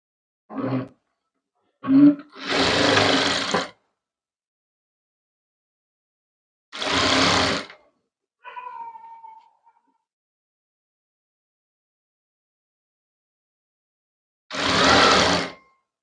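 A sewing machine stitches a saree into a maxi dress in several separate bursts, each a close, whirring run of a second or so, with long silences between and a brief faint rattle in one gap.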